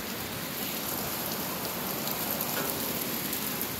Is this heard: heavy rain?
yes